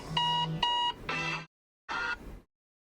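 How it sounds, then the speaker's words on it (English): A morning alarm clock sounds in repeated electronic beep bursts, three in quick succession, then a pause and one more, clear and close with no talking. "That is my alarm for in the morning when I got to go."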